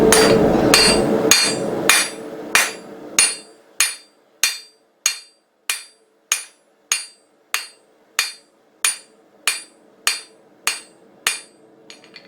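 A blacksmith hammers hot steel to fuller the jaw of round-jaw tongs: loud, ringing hammer blows close by, rapid and heavy at first, then settling into an even series of about sixteen separate strikes, each with a bright metallic ring.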